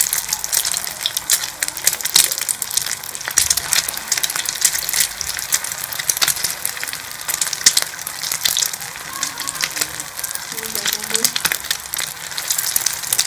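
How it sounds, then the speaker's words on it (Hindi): Chicken shami kebabs fry in hot oil in a pan, giving a steady, dense sizzle with bursts of spitting and crackle that carries on without a break, close and fairly loud. "इस तरह हम जो है वो सारे कबाब जो है वो फ्राई कर लेंगे"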